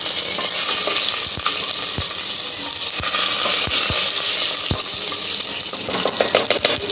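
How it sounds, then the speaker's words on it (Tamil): Red chilli, asafoetida and curry leaves sizzle loudly in hot oil while being stirred. A constant close, hissing fry runs throughout, broken by scattered clinks of the spoon against the pan. "ஒரே ஒரு வரமிளகா போட்டுக்கலாம் பெருங்காயம் ஆட் பண்ணிடுவோம் கொஞ்சமாக கருவேப்பிலை இப்போ இது எல்லாத்தையும் சேர்த்து கலந்து விட்டுக்கலாம்"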